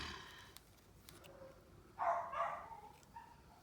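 A single faint dog bark sounds at a distance over quiet room noise, followed by a softer yip.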